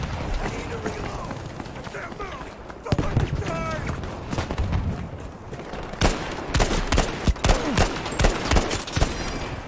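Gunfire from Battlefield V multiplayer on the Iwo Jima map: bursts of rifle and machine-gun fire crackle in rapid, uneven volleys, growing louder and sharper in the second half, while a player talks over the shooting.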